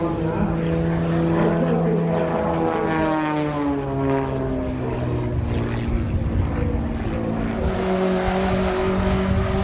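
A light aircraft powered by a Yamaha motorcycle engine drones overhead at a car show event, its buzzing propeller note rising and falling in pitch as it passes, loud and continuous, with a voice talking over it.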